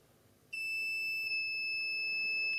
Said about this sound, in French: c'est un petit bip qui avertit qu'on est en fin de cycle